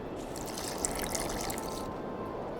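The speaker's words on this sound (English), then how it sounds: "I need to add burnt lime to the flask, then quench it with water." Water pours steadily into a flask in The Witcher 2 game, a continuous trickling, splashing fill lasting a couple of seconds with no talk.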